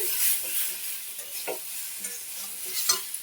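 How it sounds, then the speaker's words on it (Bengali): Star fruit pieces sautéed with salt and turmeric in a pan: a soft, steady sizzle broken by several spoon scrapes and stirring knocks against the pan, close by and without voices. "ঢাকা দিয়ে নুন হলুদ দিয়ে দিয়েছি, দিয়ে ভালো করে কষে নিচ্ছি"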